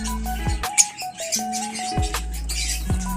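African lovebirds and parakeets in a mini aviary chirp and tweet close by, a busy stream of short calls overlapping throughout.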